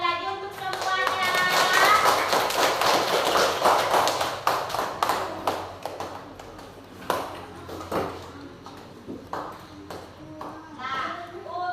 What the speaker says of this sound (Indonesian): kita beri tepuk tangan sekali lagi untuk semuanya